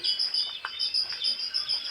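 Steady high-pitched cheeping from many newly hatched chicks in a brooder, continuous overlapping peeps close by with no voices.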